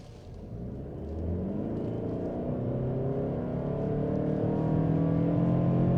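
A 2025 Lexus NX 350h hybrid accelerates in sport mode, its engine rumble and whir climbing steadily and growing louder over several seconds, heard from inside the cabin with no talking.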